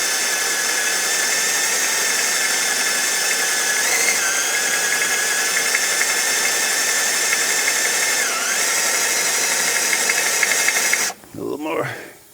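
A drill bit grinds slowly into the cap of a front ball joint rivet on a 2006 Pontiac Torrent, a loud, steady, high whine lasting several seconds with slight pitch dips, then cutting off as a voice starts speaking.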